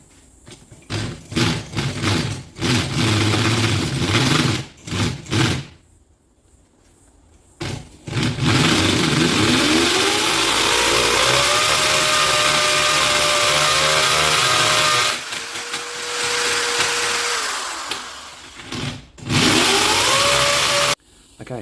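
Power drill boring a 10mm hole into masonry to fit wall plugs for an industrial wall fan, with loud close grinding whines in several bursts, one long sustained run and brief stops between.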